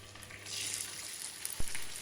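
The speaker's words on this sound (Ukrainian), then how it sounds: "На добре розігріту сковорідку наливаємо олію та викладаємо м'ясо" Chicken fillet sizzles steadily in hot oil in a well-heated pan over high heat, with a brief clatter near the end.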